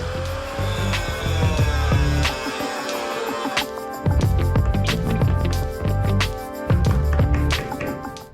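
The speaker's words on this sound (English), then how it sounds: "you know the metal's not doing good when it doesn't spark very much when you're going to cut it" Rusty body metal being cut off a Chevrolet Suburban, a loud, close grinding whine with a tonal squeal that stops, then resumes in several rough bursts.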